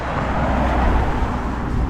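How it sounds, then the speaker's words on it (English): On a blustery, very windy walk, a car passes by, a steady broadband road roar mixed with heavy wind buffeting, loud and close throughout. "here comes the car"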